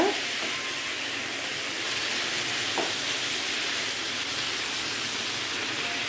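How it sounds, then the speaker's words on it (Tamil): Tomatoes for a homemade pizza sauce sauté in a pan, giving a steady broadband sizzle and hiss with occasional faint stirring scrapes, moderately close and continuous throughout. "ஸோ இது நல்லா வதங்குற வரைக்கும் நம்ம கிண்டிக்கலாம்"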